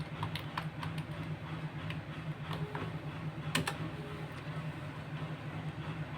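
Keys being typed on a computer keyboard while entering text in Microsoft Word, a run of light irregular clicks under a steady low background hum.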